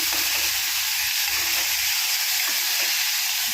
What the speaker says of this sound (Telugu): ఇలా కొంచెం ఫ్రై అయ్యాక మనం బీన్స్ వేసుకుందాం